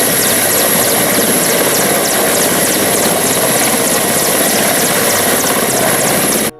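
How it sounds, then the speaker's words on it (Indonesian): A military transport helicopter in a video game, its rotor thumping in fast, even beats over a loud, steady turbine whine that holds close and constant before cutting off abruptly at the end. "Wih, kita menemukan helikopter pengangkut tentara teman-teman."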